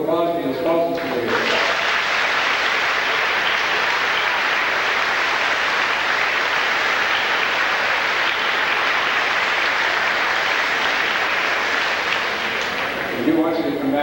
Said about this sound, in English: Let's have a round of applause for the spouses today.